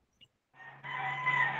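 A rooster crows in the background, one drawn-out call that starts quietly, swells and holds steady for about a second, fairly clear with no talk over it.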